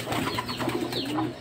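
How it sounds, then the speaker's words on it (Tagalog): Soft pigeon cooing close by, a short run of low throaty coos from pet pigeons, fairly quiet and heard alone. "Mga kalapatid."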